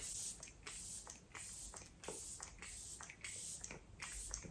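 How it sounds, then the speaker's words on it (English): Hourglass Veil Soft Focus Setting Spray is misted onto skin in a series of short, soft, airy pumps at a steady rhythm, close but quiet. "I might just add a little bit of setting spray to my skin"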